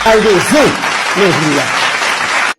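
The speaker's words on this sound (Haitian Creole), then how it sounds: "Applaudis." A crowd claps loudly and steadily throughout, with voices speaking over the applause, before it cuts off abruptly near the end.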